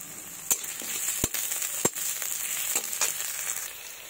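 Onions sizzle in hot mustard oil in a wok, a steady frying hiss broken by a few sharp pops and spatters, close and moderately loud with no talk.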